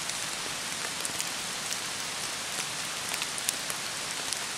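Steady rain falls outdoors, a dense even hiss of drops pattering on surfaces with occasional louder individual drips, continuous and close with no talk.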